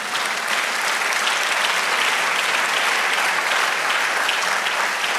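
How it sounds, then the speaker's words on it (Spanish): A church congregation claps loudly and steadily in applause to the Lord, a dense wash of applause from many hands that carries on without a break. "Dame un aplauso al Señor."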